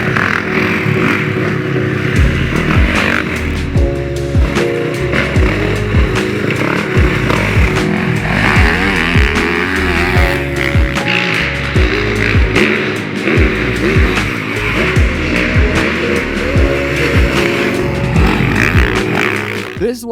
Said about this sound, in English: This YZ450F engine is a beast.